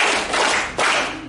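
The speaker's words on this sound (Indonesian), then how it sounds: "Ayo kita tepuk tangan 3 kali untuk kita." A Year 7 class in an Indonesian junior high school claps together in unison, delivering a brief set of loud, sharp group claps close by.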